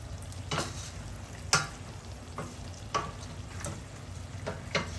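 Fish, a pabda, sizzles quietly in a pan of oil with a steady frying hiss, broken by several sharp spatter pops and stirring scrapes, close by and without talking.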